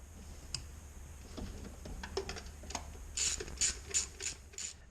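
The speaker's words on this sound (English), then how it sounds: "And we'll go ahead and run these screws in." A ratchet clicks quietly as it drives in the screws holding a distributor cap during a tune-up, a few short bursts of rapid ticking close by with a faint hum underneath.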